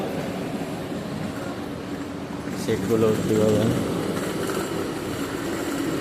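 A train at a station in Italy rumbles and clatters steadily on the tracks, a continuous mechanical rattle, with people talking over it.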